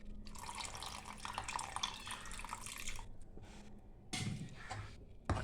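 Tamarind water is poured into a boiling curry, making a steady splashing trickle that runs for a few seconds. It breaks off briefly, then comes back as a shorter, fuller pour.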